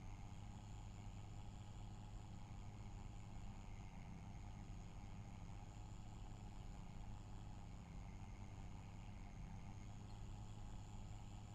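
A truck engine in Farming Simulator 25 runs at a steady low rumble with a constant droning hum, unchanging and alone throughout, with no speech.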